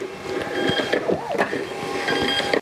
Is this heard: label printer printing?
yes